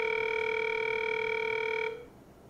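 Steady telephone ringback tone heard while a call is placed, a continuous held tone filling nearly two seconds before cutting off into quiet room noise.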